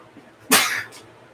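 A single sharp sneeze bursts out close to the microphone, loud and brief, with faint background murmur around it.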